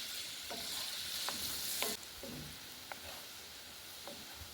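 Butter sizzles and foams in a pan while browning for a zucchini and summer squash pasta sauce, a steady hissing fry with occasional clicks and scrapes of stirring, close and continuous.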